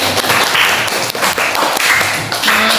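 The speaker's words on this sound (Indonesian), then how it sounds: "Tepuk tangan dong untuk kita semua." A small group of listeners at a public speaking class claps briefly, the close, bright hand claps loud and somewhat uneven throughout.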